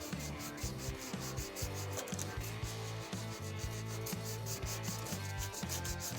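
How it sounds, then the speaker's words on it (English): An angled wood section is hand sanded with 120 grit sandpaper on a sanding form, making rhythmic back-and-forth rasping strokes, close and continuous. "I'm going to put my sandpaper on there just like that, and I'm going to go right in here and go at it"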